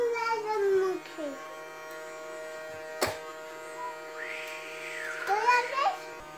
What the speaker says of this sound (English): Turn the Hoover on.